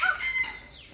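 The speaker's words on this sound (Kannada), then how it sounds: "ಹೆಣ್ಣು ನವಿಲು" A peahen at a small zoo in Gadag, Karnataka, gives a single short, sharp honking call, fairly close and clear, fading quickly into quiet background noise.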